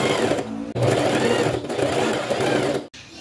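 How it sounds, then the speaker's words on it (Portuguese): A sewing machine stitches fabric scraps in loud, close, rapid mechanical bursts, pausing briefly twice between runs of stitching. "E aí, a gente vai costurando e puxando aqui, ó."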